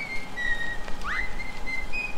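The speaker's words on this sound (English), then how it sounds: "The whistle from chapter 2." A sustained high whistle from the video game Bendy and the Ink Machine, chapter 2, holds a steady pitch with a quick rising swoop partway through, over a soft hissing background.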